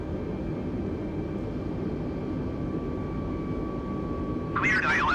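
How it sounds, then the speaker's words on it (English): An Airbus A320 flying on approach in Microsoft Flight Simulator, a steady droning engine hum with a constant tone under it, followed near the end by a sudden warbling electronic tone. "That's the aircraft coming in behind us."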